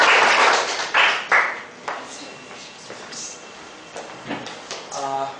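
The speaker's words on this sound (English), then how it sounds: "welcoming you to a huge round of applause" Audience applause welcoming a speaker to the stage at a Rotary Club (RCR) speakers forum meeting, a loud burst of clapping at the start that quickly thins into scattered claps, with background murmur and a brief tonal sound near the end.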